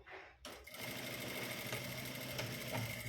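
A sewing machine stitches two layers of main fabric while a shoulder strap is attached, giving a fast, steady mechanical rattle running close and continuously after a brief start, with no talking.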